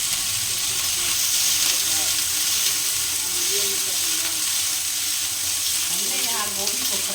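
Cauliflower frying in hot oil in a home kitchen, a dense continuous sizzle and hiss with occasional stirring scrapes, close and loud throughout.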